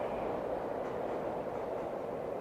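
A steady low rumble of a train rolling past on elevated tracks in Nakameguro, Tokyo, continuous and moderately loud with no distinct clacks or voices.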